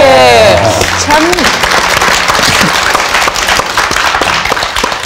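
An audience claps together in applause, a dense, steady patter of many hands filling the space, with a voice briefly audible over the start.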